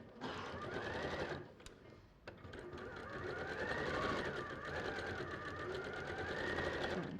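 A sewing machine runs steadily through fabric, a continuous fairly quiet motor hum and needle chatter with a brief dip and a couple of clicks early on.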